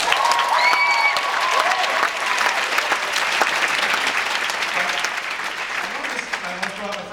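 Loud, dense applause fills a theater during a talk-back, a sustained roar of many hands clapping. Voices cut through briefly at the start and again as the clapping thins out at the end.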